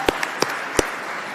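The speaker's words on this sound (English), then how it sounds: "let's have a round of applause for Jordan Flowers and all he and the Disclosure Foundation team have done" Audience applause in the Kennedy Caucus Room on Capitol Hill at a disclosure forum, a steady crowd clapping with a few sharp individual claps rising above the wash.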